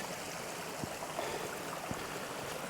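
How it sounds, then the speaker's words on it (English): Water runs steadily down a set of stone steps on a wild coastline, giving a continuous close rushing and splashing wash with a few soft thumps. "Nice running of the water just down these steps."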